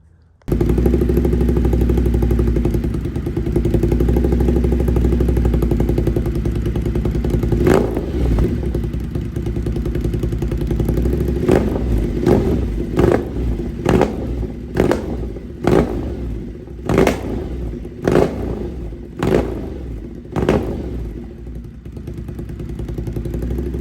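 A Ducati Monster 1200 S engine idles with a deep, loud rumble, then blips its throttle in a series of sharp revs that rise and fall repeatedly toward the end, with no talking.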